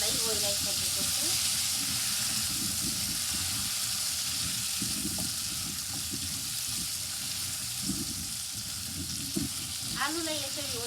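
Wilted potatoes fry with cumin in a hot pan, making a loud, constant sizzling hiss with occasional stirring scrapes, while a voice speaks briefly at the start and end.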